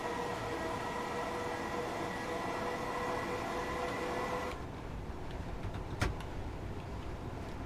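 Class 421 electric train in Train Simulator hums and rumbles steadily, then the sound abruptly thins out and a single sharp clunk follows; fairly quiet, with no talk.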